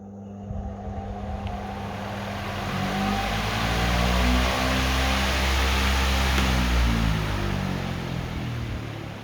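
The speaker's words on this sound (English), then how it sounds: "Have a very large industrial fan up on the wall here. You'll hear this thing crank on when I start it up." A very large industrial fan mounted on a garage shop wall cranks on, a loud broadband roar that builds and swells over several seconds to a steady rushing drone, with no talking.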